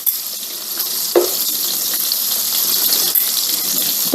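Shrimp frying in a hot pot with a steady bright sizzle, with a few louder scraping clicks as pieces are turned over, close and without talk.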